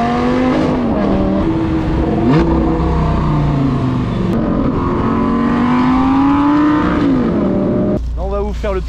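Ferrari Testarossa with a V10 engine heard from outside, a loud sustained exhaust note rising and falling as the car drives, with harmonic whine, ending in a brief shift to a different rising tone.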